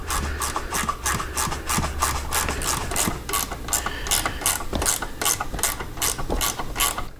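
A hand ratchet backs out a 3/8 bolt from the plastic handlebar housing on a Harley-Davidson Road Glide, giving steady, rapid clicking strokes in an even rhythm that continue throughout, close and clear.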